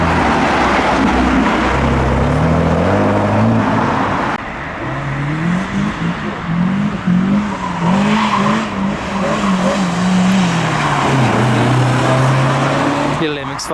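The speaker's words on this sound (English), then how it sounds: "here we go, a turquoise Nissan GTR" A turquoise Nissan GTR pulls into a tuner car meet, its engine revving and note rising and falling up close under a constant rumble of crowd and other cars. People talk throughout.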